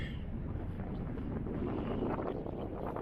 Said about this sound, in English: It's gonna be windy, unfortunately, cause the camera with the windscreen is gone now.